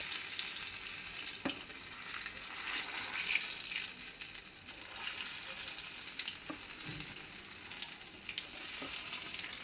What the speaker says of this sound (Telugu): ఇలా పూర్తిగా మీడియం ఫ్లేమ్లో పెట్టి ఇలా వేయించుకోవాలన్నమాట.